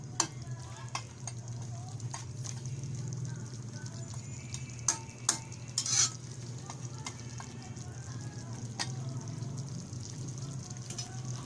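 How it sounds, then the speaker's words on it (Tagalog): Pork with potatoes and carrots is stirred in a simmering pot, with steady bubbling and sizzling and a few sharp clinks of the utensil against the pot, close and moderately loud. "Haluin po natin."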